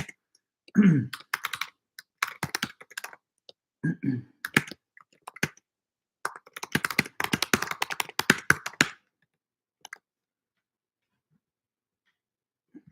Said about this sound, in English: I'm going to just type it by hand again, maybe cutting and pasting it.